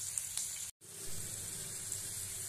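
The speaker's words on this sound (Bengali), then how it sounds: "মশলা ভাজা হচ্ছে।" Spice paste frying in oil in a wok, a steady close hiss and sizzle that cuts out for a brief moment before carrying on evenly.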